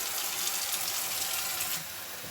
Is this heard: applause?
no